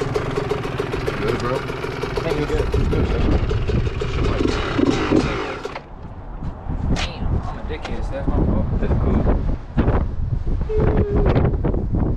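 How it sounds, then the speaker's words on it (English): Strong wind buffets the microphone with a loud, steady roar, easing briefly midway, while people talk over it and a Yamaha YZ125 dirt bike engine hums underneath. "I didn't think it was gonna be this fucking windy"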